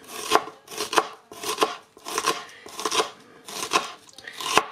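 A knife slices an onion into strips on a cutting board, about seven even, crisp strokes in a steady rhythm, close and alone without talk.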